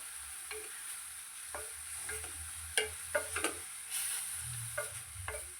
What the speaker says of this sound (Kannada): ಸ್ವಲ್ಪ ಎಣ್ಣೆಯಲ್ಲಿ ಚೆನ್ನಾಗಿ ಫ್ರೈ ಆಗಬೇಕು.